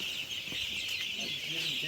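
Three-day-old chicks scuffle together at a poultry farm, giving a steady chorus of high, thin peeping with a few louder chirps close by.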